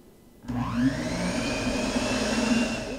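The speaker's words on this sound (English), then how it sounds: "I'm going to blend this on very low just to get the wet ingredients well mixed before we add in the dry ingredients" Old hand mixer switched on to very low, blending wet ingredients for healthy chocolate: a sudden start into a steady, fairly loud whirring motor drone that holds evenly to the end.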